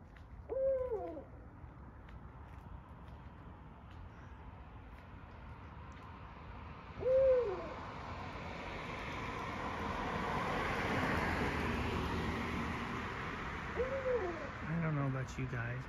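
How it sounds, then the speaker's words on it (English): An owl hoots outdoors three times at roughly seven-second intervals, each call a short, clear hoot standing out over a steady background rumble of wind or distant traffic. "I came across this owl."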